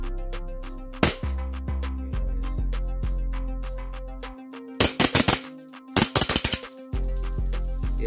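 An Elite Force Glock 18C airsoft pistol fires semi-auto indoors, sharp distinct cracks, a couple spaced early then quick bursts of snappy shots, loud and close over a steady background hum.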